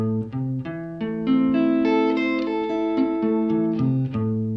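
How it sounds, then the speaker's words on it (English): Plucked guitar notes sustain and overlap, blending into a ringing chord as the arpeggio moves through several changes. "what you want to try to avoid is the sound of a chord ringing together"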